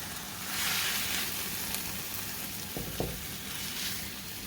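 Meat sauce sizzles and fries steadily in a pan, a continuous close crackling hiss with a couple of brief clatters partway through.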